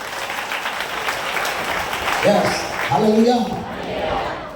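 Audience applause at a Malayalam Christian sermon by a preacher, a steady wash of clapping through the whole stretch with a voice rising briefly over it partway through.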